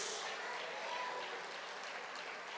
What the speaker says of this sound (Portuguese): Aplauda e glorifique a Jesus por este momento.